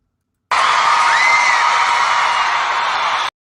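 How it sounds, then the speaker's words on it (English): An audience claps and cheers loudly as a guest joins a show on marketing, a steady roar of applause with a whoop rising above it, lasting about three seconds and then stopping abruptly. "big round of applause. Let's hear it."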